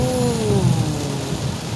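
Torrential rain pours steadily over a car during a stormy drive, a dense, even wash of noise from inside the moving vehicle with faint tonal whines threading through it.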